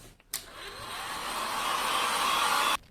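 A heat gun clicks on and blows with a loud, steady whooshing roar while drying paint on a leather steering wheel, rising slightly in pitch, then switches off abruptly.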